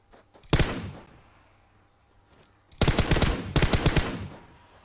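Pistol gunfire in a shooting video game comes in three loud bursts of rapid shots separated by quiet gaps, with no one talking.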